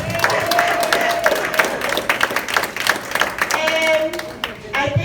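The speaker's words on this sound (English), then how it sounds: "Give me a clap right there." Audience clapping and cheering at a Black expat gathering in Panama celebrating residency, a dense sustained burst of applause with voices and whoops mixed in throughout, fairly loud and close.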